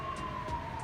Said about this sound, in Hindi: सायरन की आवाज़ है बाहर से